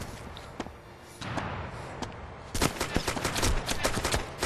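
Gunshots in the video game ArmA 2 around rooftops near a mosque: a few isolated shots early, then a rapid run of loud, close cracks and thuds in the second half.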